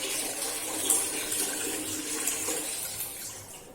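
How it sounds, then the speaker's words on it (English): Water poured into a Hall effect flow sensor, a continuous rushing, splashing pour that runs steadily throughout at moderate level with no talk. "I'm taking some water and I'm pouring it into the Hall effect sensor."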